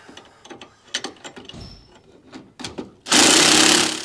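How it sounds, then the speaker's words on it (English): A power tool with a socket snugs up the bolts on a MORryde AllTrek 4000 tandem-axle trailer equalizer, with scattered clanks and handling knocks before a loud, sustained whir that starts abruptly near the end and runs steadily close by. "But I'm going to go ahead, snug up all of these extra bolts here."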